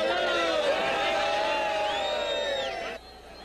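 Santa Cruz football supporters cheer and chant en masse inside an away stadium at a 2001 Pernambuco championship match against Desportiva Vitória, a loud, continuous crowd roar with whistles and voices that drops off sharply near the end.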